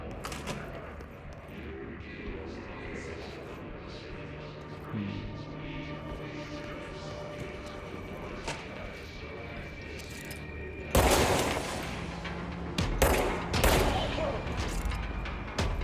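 Gunshots from the video game Control: muffled low thuds and clatter under game noise at first, then a loud sharp blast followed by several more cracking shots near the end, with a voice talking over parts.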